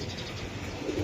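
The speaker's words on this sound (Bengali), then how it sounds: "ছটফটা কবুতর ভাই, অনেকদিন পরে একটু বাইরে পাইছে তো" Restless giribaz pigeons, out after a long time indoors, coo in a low, continuous murmur nearby, brief and without voices.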